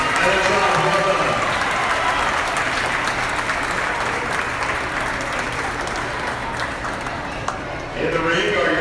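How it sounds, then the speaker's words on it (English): Sustained applause from spectators at a goat show, with a steady wash of clapping throughout and crowd noise mixed in; a voice speaks over the clapping near the end. "Let's give all these great exhibitors a big round of applause."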